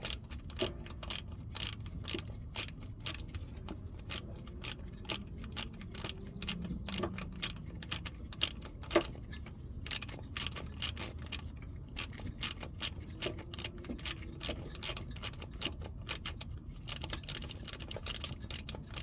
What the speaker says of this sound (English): So we're gonna just ratchet that on out of there.